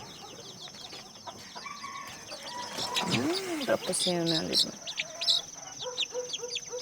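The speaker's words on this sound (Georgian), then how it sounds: "აქ ჯუჯა ქათმები იმყავს, წიწილების სხვადასხვა ჯიშები." Bantam chickens in an aviary cluck and call nearby, with several short calls rising over the background while people talk.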